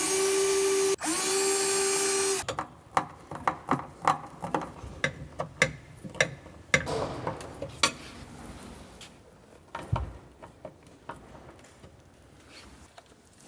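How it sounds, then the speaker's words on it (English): A drill whines in two short loud bursts while boring holes in a cabinet front for a rotating soft-close larder, then stops and gives way to a series of irregular clicks and knocks as parts are handled. "then you can drill the 4 holes and screw into position"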